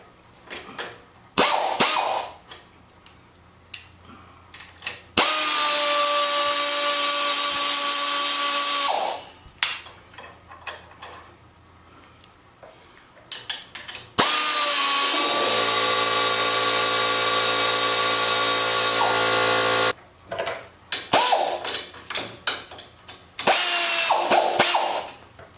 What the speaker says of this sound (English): since these bolts are so long, I'm going to go to some air power here